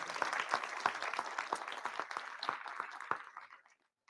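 An audience at a keynote talk claps for a few seconds, sharp scattered hand claps that thin out and stop.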